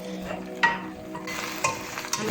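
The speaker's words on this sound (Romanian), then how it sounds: "le vom lăsa să se călească puțin, timp de 2 minute" Chopped vegetables for a cauliflower dish softly sizzling as they sauté in a pan, with a few light stirring scrapes, close and steady.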